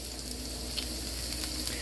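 Snow peas cooking in a pan with peppers give off a steady, moderate sizzle that holds even throughout, with no talking.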